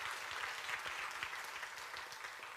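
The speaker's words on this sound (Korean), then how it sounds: "우리 하나님께 다시 한번 영광의 박수 올려드리겠습니다" A church congregation at a worship service claps in praise. The dense, continuous applause is fairly faint and distant and holds evenly throughout.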